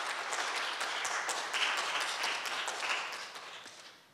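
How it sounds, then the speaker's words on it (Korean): An audience at a student speaking and poetry event claps together in sustained, dense applause that fades out toward the end, filling the room with no talking. "여러분 박수 부탁드립니다."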